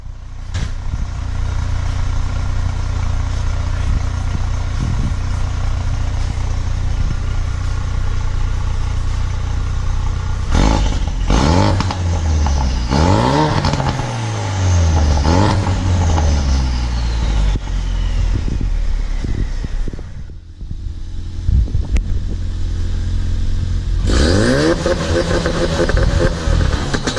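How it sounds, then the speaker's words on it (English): A 2016 Ford Focus RS with a new downpipe idles, then is revved several times, its engine note climbing and falling in loud sweeps before dropping back to a low idle and surging again at the end. "I get him to hit a couple revs."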